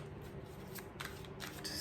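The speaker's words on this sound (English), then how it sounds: "Someday I'm going to find that perfect angle on the camera where you guys can see me shuffle the cards" Tarot cards are shuffled close to the microphone in a quick run of soft riffling flutters and crisp snaps over a faint low hum.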